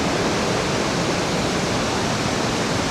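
Dense, steady broadband roar of water pouring over the Li Phi falls on the Mekong River in southern Laos, continuous and loud with no voices.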